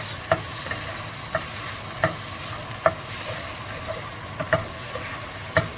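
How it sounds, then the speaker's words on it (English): Jackfruit curry being stirred in a frying pan: a soft continuous sizzle with regular light taps and scrapes of the spoon against the pan, about one every second, with no talking. "I'm going to give it a good mix"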